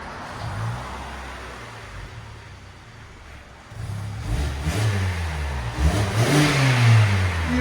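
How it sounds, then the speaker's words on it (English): A 2014 Kia Optima EX GDI with a 2.4L engine and stock exhaust idles quietly, then revs up in a few rising, subdued pulls, muffled and moderately close. "2014 Kia Optima GDI EX. This is what it sounds like before."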